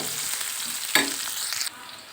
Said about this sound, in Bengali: এরপর আমি তেলটা গরম হয়ে গিয়েছে, আমি পেঁয়াজ দিয়ে দিয়েছি।